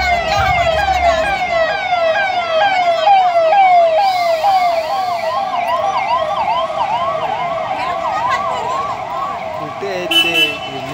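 Sirens of the chief minister's convoy arriving at a tandoori samosa stall in Thane, several loud wailing sirens overlapping close by for the whole stretch, with traffic rumble beneath.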